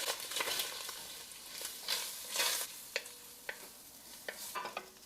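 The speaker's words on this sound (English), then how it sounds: "Now I'm putting my spices in right now so that I can let them bloom in the oil and the fat. Give all that a good stir." Spices sizzling softly in hot oil and fat as they are stirred, quiet frying with irregular scraping strokes and clinks of the spoon against the pan.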